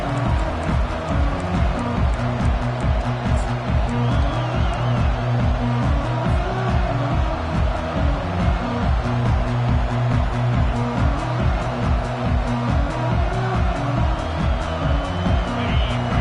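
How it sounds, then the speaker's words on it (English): A packed college football stadium crowd in the College Football 25 video game roars steadily and loudly after a touchdown and kickoff, with a rhythmic pulsing chant or beat running underneath. "This crowd bringing the energy and noise early"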